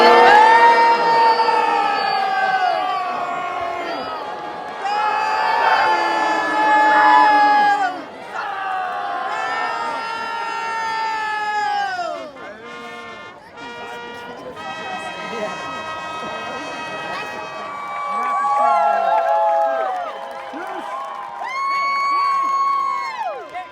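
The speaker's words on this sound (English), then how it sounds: "Cheer for Sir Ivan" A Renaissance Faire crowd at a jousting tournament cheers for a knight during Pirate Weekend at the Pennsylvania Renaissance Faire. Loud shouts and whoops swell and fade in waves, mixed with an announcer's voice and scattered calls.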